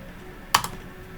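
A single sharp keystroke on a computer keyboard while a debug command is entered at the command line, brief and close, with a faint second tap just after, against quiet room hiss.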